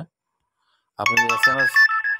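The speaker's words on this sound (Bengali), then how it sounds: "বিভিন্ন রিংটোন আছে" A WhatsApp notification ringtone plays from a phone after a brief pause, a bright, loud melodic jingle of quick, clear tones close to the listener.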